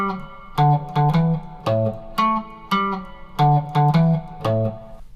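A funky single-note electric guitar riff, played clean and close in short plucked phrases with small gaps, alone with no other instruments.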